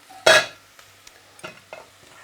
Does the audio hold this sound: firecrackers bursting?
no